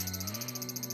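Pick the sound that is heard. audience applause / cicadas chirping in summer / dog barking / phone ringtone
cicadas chirping in summer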